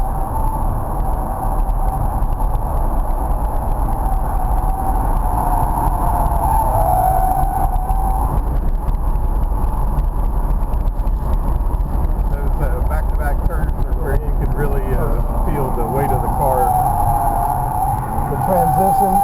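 A heavy car on the AMP race track roars steadily through its engine under track driving, braking and turning, with a constant loud drone throughout while people talk over it.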